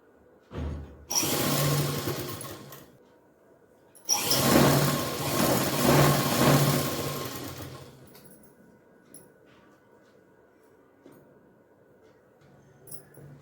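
A sewing machine stitches cloth in two close bursts of whirring mechanical rattle, the first about two seconds long and the second about four, separated by a short pause and followed by faint handling noises.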